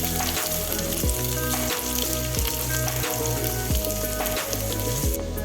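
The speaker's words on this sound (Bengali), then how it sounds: "আমি এক এক করে শসাগুলো এর মধ্যে দিয়ে ভেজে নেব।" Cucumber pieces frying in hot oil in a pan, a steady close sizzle with brief stirring clatters at regular intervals and no voices.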